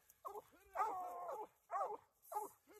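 A six-month-old Walker hound pup giving several short whining, yipping barks in uneven bursts, fairly close but quiet, with no talking over it.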